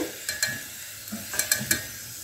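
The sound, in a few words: potato roll samosa frying in oil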